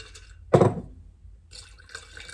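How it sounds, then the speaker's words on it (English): A short pour of water onto dried sourdough starter in a small container, one brief splashing trickle followed by quiet dripping, heard up close. "She said to just put enough water, not tap water, but just enough water to like cover it so it rehydrates."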